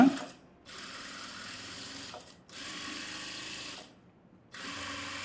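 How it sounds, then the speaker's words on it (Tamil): Sewing machine stitching along the edge of a lining to make thread piping, running in three separate bursts of steady mechanical whirring with short pauses between, close and fairly quiet. "இந்த லைனிங்கை மட்டும் எடுத்து விட்டுட்டு எஜ்ஜில் தையல் போடணும்"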